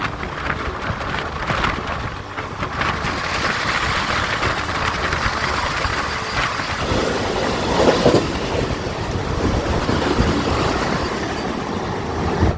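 A local train runs at speed next to the Vande Bharat Express, heard from inside as a loud, continuous rumble with rhythmic clickety-clack of wheels on rail joints throughout.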